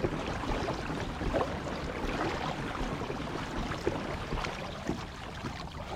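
A 2021 Hobie Mirage Compass pedal kayak moves through water with a steady wash and splashing, plus light rumble and occasional soft knocks, heard close up with no talk.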